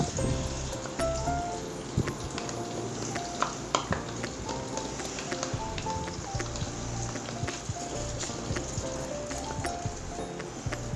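A cup of yogurt is stirred into fried masala in a pan for a potato and egg curry, with a continuous wet sizzle and repeated scraping, clattering strokes of the spoon close by.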